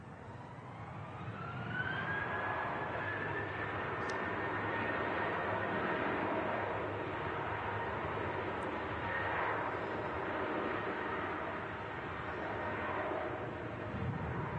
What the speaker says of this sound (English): Turkish Airlines A330-300 coming in from Istanbul to kick the show off today.